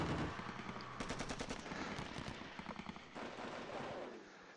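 Machine gun fire from the Panzer Battles Normandy wargame rattles in repeated short bursts of rapid crackling shots over a dull background rumble, with a brief lull before more fire.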